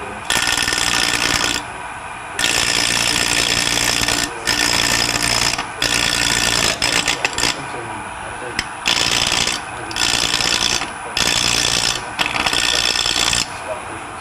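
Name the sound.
wood lathe turning, gouge making a push cut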